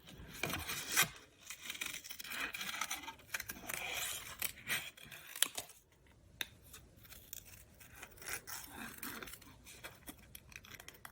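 Scissors fussy cut a stamped paper image for a handmade card, with soft, close snips and rustling paper in irregular bursts, faint and continuous.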